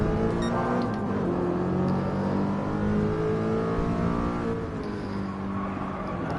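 Race car engines in Gran Turismo Sport, with a Porsche close behind on a speedway, drone steadily and loudly throughout, a continuous high-revving whine with shifting harmonics and no pauses.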